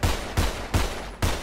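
Gunfire in the video game GTA 5 roleplay, four loud evenly spaced shots cracking out about a third of a second apart, each with a short decaying tail.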